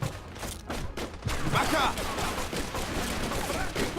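Sustained machine gun fire rattles continuously through a Mafia 2 firefight, dense and loud from start to finish, while someone shouts briefly over it.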